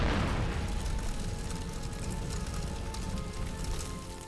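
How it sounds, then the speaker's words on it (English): A dragon breathes fire in a motion comic, a loud, sustained roaring rush that bursts in at full strength and slowly fades over a few seconds, with no voices. "Talks and breathes fire."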